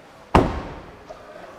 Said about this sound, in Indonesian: pintu belakang saya banting yang keras.